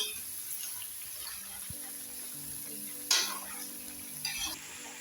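Low, steady sizzle of kohda (pumpkin) frying in a pan until golden, with a couple of brief clatters of stirring against the pan; no one speaks.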